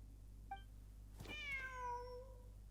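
A cat meows in the video game Genshin Impact: one short faint chirp, then a longer clear meow with a falling pitch that trails away, over a low steady background hum.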